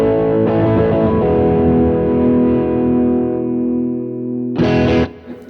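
An electric guitar played through a Fender Hammertone overdrive pedal set fully up rings out in thick, sustained distorted chords, a steady held tone fading slightly before a sharp final strum that cuts off abruptly.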